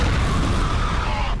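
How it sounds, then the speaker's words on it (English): A grenade blast in the first-person shooter F.E.A.R. gives a loud, close, rumbling boom that fills the whole clip with heavy low-end roar and debris wash before cutting off sharply at the end. "Eat a grenade, mother trucker."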